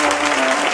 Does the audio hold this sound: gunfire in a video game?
no